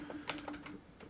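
Quiet keystrokes tap on a computer keyboard in a short, uneven burst of a handful of clicks, close but soft, with no talking.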